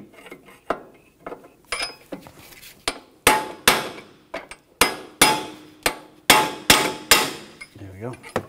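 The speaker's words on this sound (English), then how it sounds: "using a punch, I'm just gonna tap out the ball joint" A punch struck with a hammer taps a ball joint out of the steering knuckle of an Audi A4 Quattro, made as a series of sharp metallic clanks at an irregular pace that grow louder partway through. No talk is heard.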